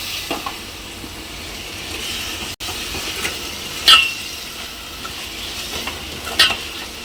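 Chicken with fried onions, chillies and tomatoes sizzles in a pan as it is stirred, giving a steady frying hiss with occasional scraping clinks of the spoon against the vessel, close up and with no talking.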